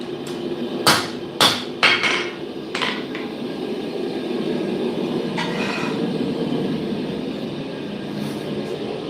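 A hammer forges steel preforms at a smithing anvil, a few sharp ringing blows in quick succession early on, then one more strike before steady background hum and a distant clank.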